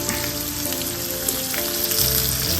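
Ginger, garlic and spices fry in hot oil for a chicken roast, giving a steady, close, loud sizzle and crackle that holds throughout, with no talking.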